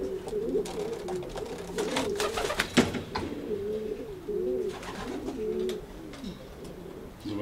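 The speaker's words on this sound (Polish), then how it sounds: "Zobaczcie, koledzy, jaki spokój gołębie mają." Racing pigeons cooing in a loft, soft repeated throaty coos overlapping from several birds, close and gentle, with occasional wing flutters and rustles.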